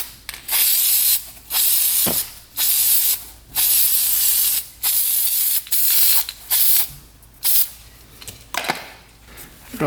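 Tusk foam filter oil hisses from an aerosol can onto a quad's foam air filter in about a dozen short, loud bursts with brief gaps between them, close to the listener and with no voices.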